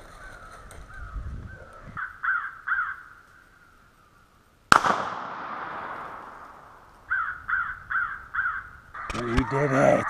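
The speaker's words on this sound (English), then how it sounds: "Wow, that crow got pummeled." A crow hit by shotgun fire during a crow hunt on public land, with short harsh caws at the start, a sudden loud blast near the middle, then more caws. Close and loud, with some talk mixed in.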